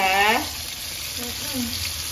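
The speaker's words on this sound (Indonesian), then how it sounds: "Lah itu goreng pisang" Banana pieces frying in hot oil for pisang goreng, giving a steady, close sizzle that runs unbroken throughout, with a short tonal sound near the start.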